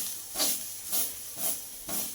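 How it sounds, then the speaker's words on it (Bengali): Susni saag greens frying in a pan while being stirred, giving a steady sizzling hiss with four soft, evenly spaced swells as the spoon turns them, close and fairly quiet. "শাকটা নাড়াচাড়া করতে করতে প্রায় ভাজা হয়ে এসছে"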